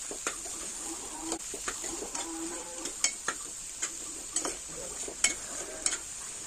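Chili, cumin and coriander powder being stirred into an ivy gourd curry in a pan: a utensil scrapes and taps in an irregular rhythm over a steady light frying sizzle, close and fairly quiet.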